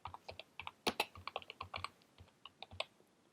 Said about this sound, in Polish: Wpisujemy ewentualny komunikat.